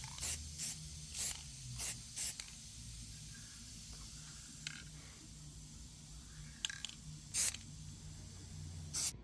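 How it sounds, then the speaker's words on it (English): Short bursts of aerosol spray paint hiss onto metal close by, several quick spurts separated by pauses, fairly quiet overall. "So I had to spray paint"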